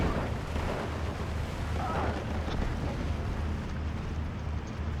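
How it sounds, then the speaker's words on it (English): Steady rumbling artillery barrage in Steel Division 2, a dense continuous roar of distant shelling with low booms rolling together for the whole stretch, no clear individual blasts standing out. "Putting in a barrage."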